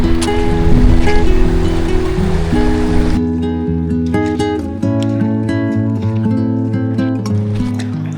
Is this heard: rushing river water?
yes